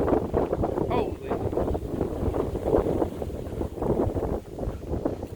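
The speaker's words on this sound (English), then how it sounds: "It's windy. It's fucking windy in here." Strong wind buffets a microphone outdoors on a rainy, gusty day, producing a loud, constant low rumble with rising and falling gusts, and a voice speaks briefly beneath it.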